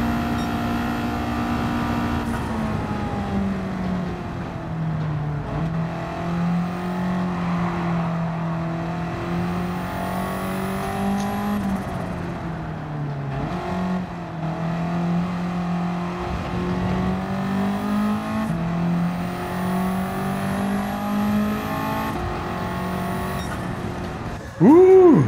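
A 1966 Renault R8 Gordini engine drones steadily while driving in Gran Turismo 7, with a sustained mid-pitched tone that rises and falls through gear changes and acceleration, loud and continuous for the whole stretch.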